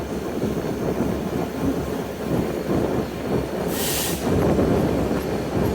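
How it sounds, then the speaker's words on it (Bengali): The Intercity Ruposhi Bangla Express rolls onto the Padma Bridge main line in rain, with a steady loud rumble of wheels on rails and a brief high squeal near the end. "আমাদের ট্রেনটি এখন পদ্মা সেতুর যে নিজস্ব মেন লাইন রয়েছে সেই মেন লাইনে প্রবেশ করছে"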